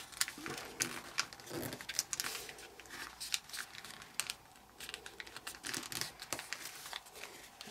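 Origami paper folded and refolded by hand for a color-changing ninja star model, giving quiet, close crinkling and crisp creasing rustles in irregular bursts with no talking.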